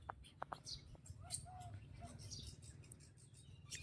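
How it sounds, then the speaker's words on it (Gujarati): Faint, high chirps and tweets from sparrows come in scattered bursts over a low background hum, with a few brief clicks early on. "ચકલીનો બધા અવાજ સંભળાતો હતો"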